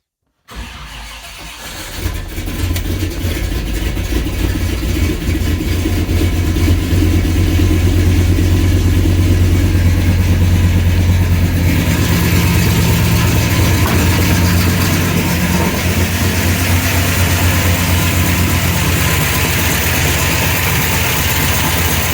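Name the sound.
car engine idling with Holley Sniper 2 EFI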